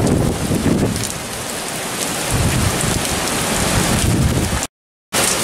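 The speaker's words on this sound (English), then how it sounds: "It's been raining all night. The wind has been blowing steadily." Heavy rain from Hurricane Dorian pours steadily with gusty wind roaring through it, a dense constant wash of noise, cut off by a brief moment of silence near the end.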